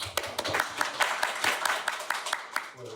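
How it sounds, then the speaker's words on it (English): A group of seminar participants claps at the close of a two-day technical training course, with scattered, overlapping hand claps forming a modest round of applause in a room. "So I think applause to everybody"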